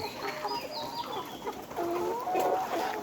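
Layer hens on a poultry farm cluck in short, overlapping bursts, moderately close and fairly soft, with a steady barn background and no talking.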